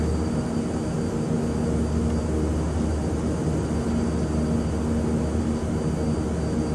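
The engines of an Airbus A330-900 airliner in Microsoft Flight Simulator 2020 give a steady, loud, continuous roar and drone, heard alone without speech.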